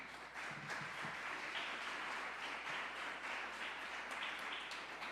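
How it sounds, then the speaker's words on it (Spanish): Congregation applauding during a church service, dense continuous clapping from many people, rather faint and distant, sustained evenly for several seconds without speech. "Den un aplauso al Señor."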